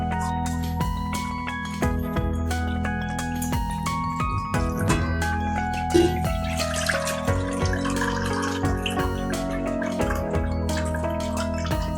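Dirty rinse water from washed poha drains through a strainer set in a vessel, a steady close trickle with scattered drips and small clicks.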